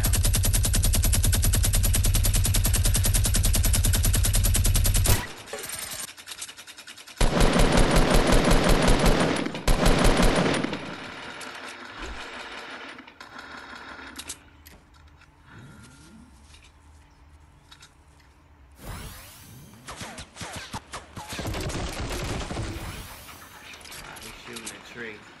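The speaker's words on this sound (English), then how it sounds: "He's shooting a tree." Automatic weapon fire in Fortnite, loud rapid bursts of shots that cut off abruptly, then sparser distant shots and a second burst later, with a player talking in between.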